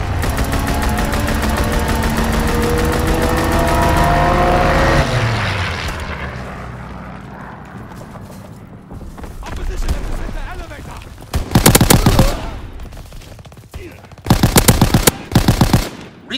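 In Call of Duty WWII, a propeller aircraft drones overhead, then loud bursts of machine-gun fire strafe the ground in several rapid, close volleys, with radio-style voice callouts mixed in.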